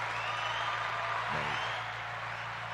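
A canned applause sound effect played from a podcast soundboard: a continuous, dense wash of clapping and crowd noise at steady volume, with a brief low hum or tone partway through.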